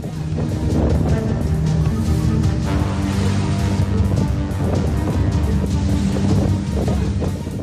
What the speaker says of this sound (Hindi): हवाओं की रफ्तार इतनी तेज थी कि चंद मिनटों में ही हवाएं अपने साथ सब कुछ उड़ा ले गई।